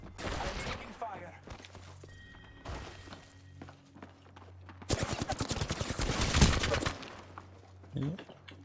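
Gunfire in a Minecraft modpack game session, with bursts of rapid shots and thuds, loudest in a sustained volley midway, mixed with voices and game sounds.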